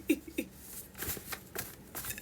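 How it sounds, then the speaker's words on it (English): Playing cards riffle and snap in several quick, soft bursts of shuffling, close and fairly quiet. "All right, let me do some little shuffling here."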